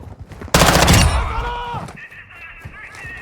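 Automatic turret gunfire in Call of Duty DMZ, a loud dense burst of shots opening abruptly and fading into a ringing tail, followed by quieter ambient game noise.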